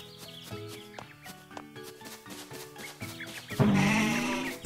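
Sheep bleating in the Mario Golf Super Rush video game, a short bleat near the end that rises loud over busy game music.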